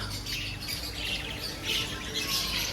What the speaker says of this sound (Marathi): त्यांचा किलबिलाट बघा, किलबिलाट